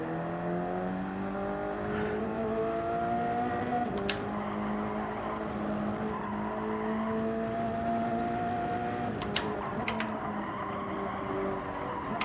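A race car engine in Gran Turismo 7 revs out in fourth gear, a loud, continuous whine climbing steadily in pitch, dropping briefly at a shift and then climbing again.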